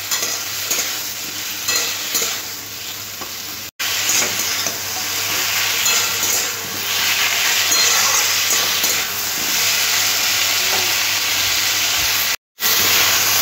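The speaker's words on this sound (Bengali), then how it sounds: "সমস্ত মশলা আমি সবজির সাথে ভেজে নিচ্ছি।" Ridge gourd frying with spices in hot oil gives a loud, continuous sizzle with steady stirring scrapes, broken by two brief sudden silences.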